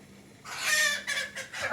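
Turkeys call in a few short, raspy bursts nearby, rising and falling in loudness over a quiet background.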